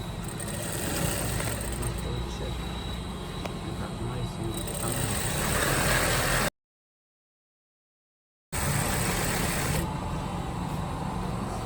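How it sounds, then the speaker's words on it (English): A sewing machine stitches a jacket back vent with a steady, continuous motor whir, stops for about two seconds, then resumes, with a voice talking over it. "Now let's sew out the ½ inch."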